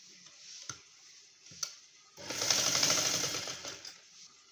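A home sewing machine stitches a prince-cut blouse at the shoulder seam, a couple of quick taps followed by a short burst of close, steady mechanical running, then stopping with light clicks.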